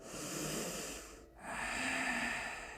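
Steady breath sound during a yoga plank sequence, a long drawn airflow that dips briefly near the middle then resumes, close and fairly loud with no talking over it.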